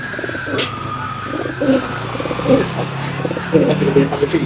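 Pigeons being basketed and loaded onto a truck coo repeatedly in low, throaty phrases, close by, with a few chirps and some background murmur.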